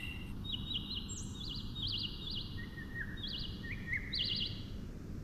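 Birds call and sing steadily in repeated high chirps and trills over a low, constant background rumble, with no speech.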